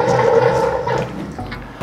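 Water gurgles and rushes as it drains out of the hoses of a large DIY aquarium sump filter. The steady, close flow fades slightly near the end.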